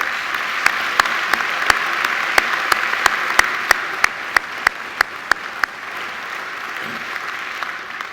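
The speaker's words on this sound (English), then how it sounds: "another great round of applause" Steady audience applause fills a university graduation ceremony hall, a dense wash of clapping with a few sharp, regular louder claps standing out near the microphone, fading slightly toward the end.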